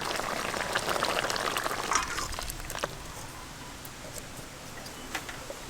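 Bata fish malai curry poured from a pan, cooked in a rural home style: liquid splashes and trickles audibly for a few seconds, then fades to quieter drips and light clinks.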